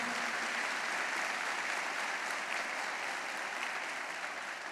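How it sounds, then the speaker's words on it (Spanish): A church congregation applauds loudly and steadily for the whole stretch, a dense wash of clapping with no pauses, fading only slightly at the end. "dale a Jesús bien fuerte ese aplauso"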